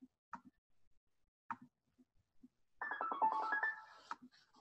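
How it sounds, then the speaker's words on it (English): A text message notification chimes on a phone, a couple of faint isolated blips followed by a brighter, louder tonal burst lasting about a second, in an otherwise quiet room with no talking. "that little text message is probably confirming how true that was"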